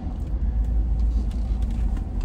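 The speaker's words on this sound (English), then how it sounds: "Is that my truck?" A truck engine rumbles close by with a steady, heavy low-frequency drone that holds level throughout, with no voices over it.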